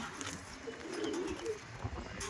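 Rampuri pigeons coo in soft, low, throaty murmurs at close range, with a quiet hum of other birds around them and no talk.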